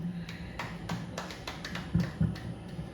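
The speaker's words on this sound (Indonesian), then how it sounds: "Tepuk tangan buat para narasumber kita" Scattered hand claps and taps from a small audience at a TPQ graduation ceremony in Kebumen, Indonesia, sparse and uneven rather than sustained applause, with a faint steady hum underneath.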